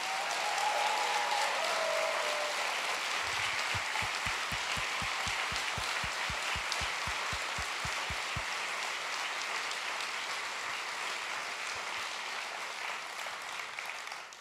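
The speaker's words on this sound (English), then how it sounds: "applause for the Sir Ken Robinson for guest hosting this final session." An auditorium audience gives sustained, dense applause that stays loud and even throughout, with a few scattered claps standing out near the middle.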